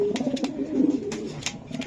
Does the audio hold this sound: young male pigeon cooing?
yes